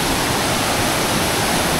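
Waterfall at Twin Falls in Pampanga, a steady broadband roar of falling water filling the whole span, loud and close with no break.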